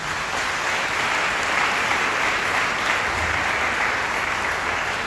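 Steady applause from a congregation at a Sunday worship and praise service in church, a dense continuous clapping that holds at an even level throughout with no talk over it.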